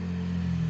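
A motorcycle engine drones nearby on a street, a steady mid-pitched hum that holds level and close throughout the brief moment.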